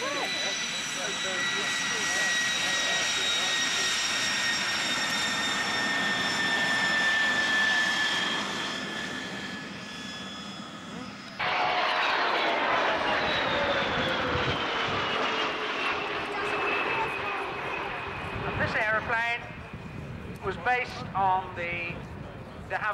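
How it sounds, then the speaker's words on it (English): A Comet four-jet reconnaissance aeroplane passes at an air show, its loud jet roar rising and falling with steady whining tones before cutting sharply to a different drone, while a commentator speaks over it. "Comet, the world's first four-jet airline reconnaissance aeroplane"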